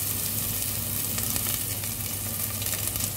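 Steady, loud sizzling of onion and garlic sautéing in a hot pan for a vegetable and mung bean dish, with faint stirring scrapes throughout and no voices.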